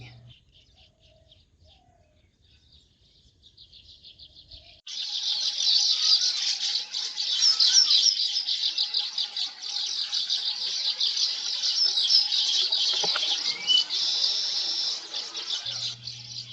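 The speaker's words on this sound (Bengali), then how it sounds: "পাখিগুলোর কিচিরমিচিরে চারিদিকে" A dense chorus of small birds chirps and squeaks continuously, bright and busy, starting after a few quiet seconds with faint chirps.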